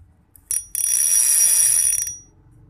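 Drag of a YOLO fishing reel, freshly repaired, spun out as if a fish were pulling, giving a fast, sharp, ringing metallic clicking that buzzes steadily for about a second and a half, loud and close, without speech.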